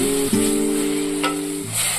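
Blended tomato is tipped into a hot tempering with curry leaves for tomato rasam, giving a steady sizzle and fry that runs the full two seconds alongside a low humming tone.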